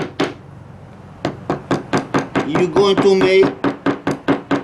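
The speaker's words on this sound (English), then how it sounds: "So right here with the hammer" Sharp repeated hammer taps on the metal clip of a spark plug boot from a GY6 Chinese scooter, a steady run of close, loud knocks with a brief pause and a short spoken remark mixed in.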